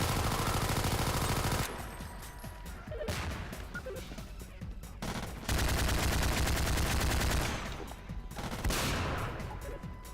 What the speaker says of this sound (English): I'm gonna focus fire on the combines first though.